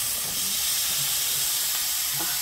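Pumpkin pieces go into a hot pot on a fireside chulha, giving a steady, close steamy sizzle and hiss that lasts throughout with no talking.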